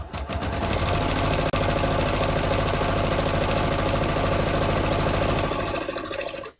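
A sewing machine runs continuously as it stitches through jeans, a close, loud mechanical whir with rapid regular needle clatter that stops at the end.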